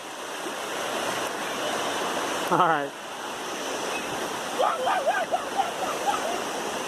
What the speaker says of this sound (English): Look at the water rolling.